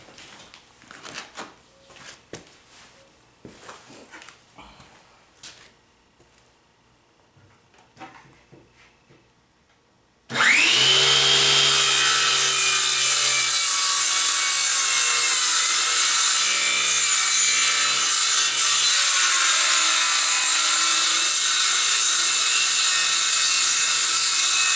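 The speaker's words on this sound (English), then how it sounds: "I'm making a bunch of plunge cuts, and I'm leaving the corners attached where the circular blade doesn't go quite all the way through" Circular saw plunge-cutting into wood for a camper build: quiet handling knocks and taps first, then the saw starts abruptly and roars loud and steady through the cut, whining continuously without a break.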